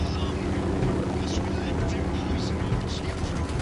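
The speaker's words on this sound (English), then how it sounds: "Down, get down, chopper!" A helicopter in the Ghost Recon Wildlands video game drones steadily with a low rotor rumble, mixed under game sound and voices talking.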